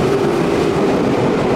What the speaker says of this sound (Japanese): あの電車は出発していくわけですね。